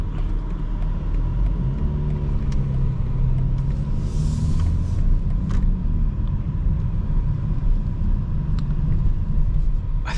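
A 2025 BMW M4 Competition xDrive with a modified exhaust cruises with its valves closed, giving a steady, muted low engine drone and road rumble heard from inside the cabin, with faint clicks and no one talking.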